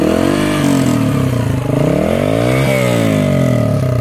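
Yamaha XTZ 125 single-cylinder motorcycle with a Takegawa exhaust and airbox restriction removed, revved up and down a couple of times close by, a loud thumpy engine note rising and falling.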